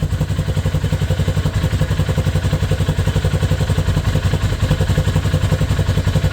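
A Polaris Ranger 570 side-by-side engine, recently repaired after fire damage, idles steadily with a close, loud, even chugging pulse and light mechanical clatter throughout, no voices.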